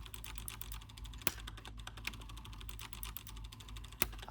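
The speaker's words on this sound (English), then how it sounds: "I hear the printer is doing something" A Casio FP-1011PL ALPS plotter/printer runs its self-test with rapid, even mechanical ticking and clicking over a low steady hum. Two sharper clacks stand out, one early and one near the end, all heard close up with no talking.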